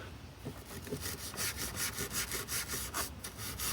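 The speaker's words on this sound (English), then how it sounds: "Let's see if I can do that with a toothbrush." A toothbrush scrubs back and forth in a steady, rasping rhythm, about a dozen quick strokes cleaning gunk from a MINI Countryman, close up with no talking.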